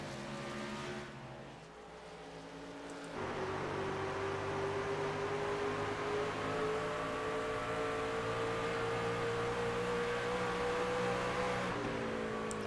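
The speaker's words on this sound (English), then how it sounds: "And in the background, that white car, that is Benedetto." Racing trucks lap a short oval track in a Superleague event, engines droning steadily with sustained harmonic whine, a quieter stretch early then a loud continuous roar as trucks run close together.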